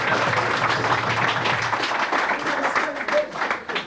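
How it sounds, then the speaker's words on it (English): Audience applause for a hurling team's coach at an intermediate final celebration, steady crowd clapping sustained throughout, with some voices mixed in. "give him a big round of applause."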